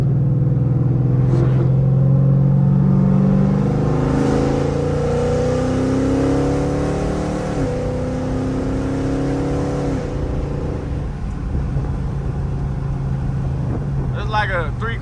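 A 2015 Chrysler 300 Hemi fitted with BBK long tube headers pulls hard in third gear at about three-quarter throttle, its loud exhaust rumble rising steadily in pitch, then settling after a shift.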